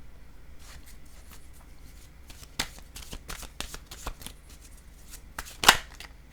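Oracle cards are shuffled in a series of soft, quick riffling flicks that build to a sharper burst near the end, close and quiet against a faint background hum.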